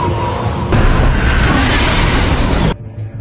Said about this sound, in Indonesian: Ia pun memasang peledak itu dan meledakkan esnya yang mengubur adiknya tersebut.